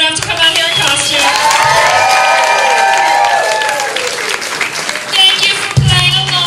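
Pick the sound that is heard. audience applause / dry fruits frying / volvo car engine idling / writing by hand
audience applause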